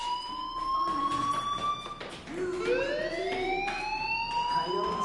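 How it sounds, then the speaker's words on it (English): A fire alarm sounds continuously in a building, its rising and falling electronic siren tones repeating loudly and steadily with no voices over it. "Hey, do you hear that fire alarm?"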